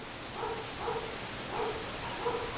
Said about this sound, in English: that's Bosley barking at the schnauzers next door.